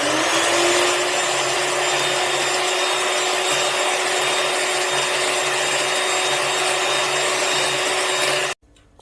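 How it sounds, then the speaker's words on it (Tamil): An electric blender whirs steadily as it beats two eggs for a vanilla sponge cake, a loud continuous motor hum that runs for most of the clip and then cuts off abruptly near the end. "எலக்ட்ரிக் பிளெண்டர் எடுத்துக்கோங்க. இப்போது முட்டையை நல்லா பீட் பண்ணிடலாம்."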